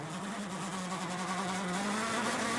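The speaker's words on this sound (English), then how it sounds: "Engine stuttering after the water splash." Rally car engine droning steadily at close range during the 2014 Acropolis Rally, the engine note wavering slightly as it stutters after a water splash, with loud wind and road noise around it.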